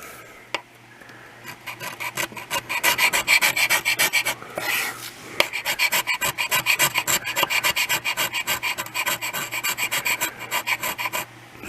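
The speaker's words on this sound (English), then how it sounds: "See, the heel will even scrape." A scraper rasps steadily across a plastic shop tabletop, scraping off built-up gunk in rapid repeated strokes, loud and close, with a brief pause midway before the rhythmic scraping resumes.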